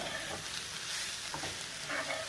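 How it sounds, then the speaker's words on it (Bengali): Dried shrimp frying in a pan with salt and turmeric while being stirred, a steady close sizzle with light scraping throughout. "নাড়াচাড়া করে ভেজে নেব।"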